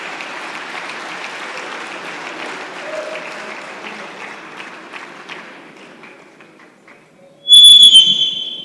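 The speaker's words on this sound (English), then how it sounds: "A round of applause for him as he comes on stage." An audience at a civil society leadership conference applauds as an archbishop comes on stage. Steady clapping fades gradually, then a sharp, loud whistle cuts in near the end.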